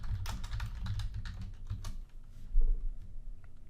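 Rapid typing on a computer keyboard while naming a new C# script in Unity, close clicky keystrokes in quick bursts with a short pause and a heavier thump near the end, no voices.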